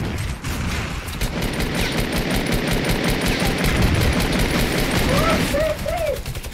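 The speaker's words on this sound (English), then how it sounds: "Yeah, they're shooting at me." Rapid, sustained automatic gunfire rattles continuously in a Fortnite Battle Royale match, loud and close, while players talk briefly over the shooting.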